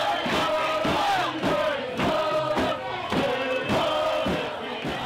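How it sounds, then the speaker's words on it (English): A protest crowd marches through downtown Vancouver streets toward Enbridge's headquarters in opposition to pipelines and tankers. Loud, sustained group chanting carries a steady rhythm, punctuated by regular thumping beats like a drum. "the crowd took to the streets, marching several blocks to Enbridge's Vancouver headquarters"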